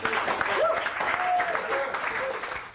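Audience applause for a Belfast singer at a gathering, a soft, somewhat distant clapping wash with voices talking over it.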